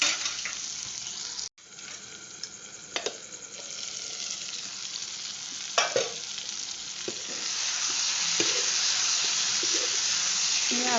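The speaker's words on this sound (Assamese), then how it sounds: "আকৌ এবাৰ মাংসখিনি মই লৰাই দিলোঁ।" Meat frying with onions in a pan being stirred, steady sizzling with scraping spatula strokes and a brief lid or utensil clatter early on, the sizzle growing louder toward the end.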